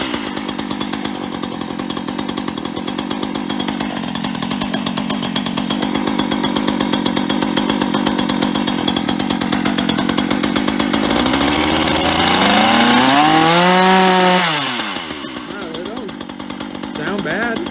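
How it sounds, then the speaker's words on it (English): Chainsaw running, a loud rattling two-stroke buzz held steady for most of the time, then revving up and dropping back down to a rougher idle near the end, with voices faintly underneath. "we know that that chainsaw starts"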